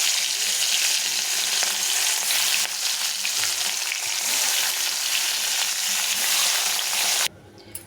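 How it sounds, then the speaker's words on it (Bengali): Fish sizzles steadily in hot oil in a frying pan, a loud, dense, continuous crackle with no talking that stops abruptly near the end. "বাকি মাছগুলো এভাবে ভেজে নেব।"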